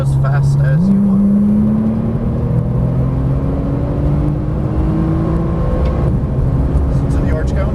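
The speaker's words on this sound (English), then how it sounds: "Start to accelerate as fast as you want." A Porsche Turbo accelerates on a track, its engine note climbing steadily in pitch after an upshift, loud and close with a constant rumble underneath.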